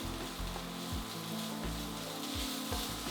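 Pork belly with garlic frying in a pan gives a steady, moderate sizzle, with a few soft knocks of stirring underneath and no talking.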